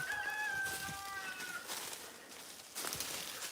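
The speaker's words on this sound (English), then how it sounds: "I'm only coming up to the chicken coop right now. And I can tell by the roosters crowing." Roosters crow at a ranch chicken coop, with one clear, drawn-out crow close by in the first second and a half and fainter crowing further off after it, over steady outdoor background noise.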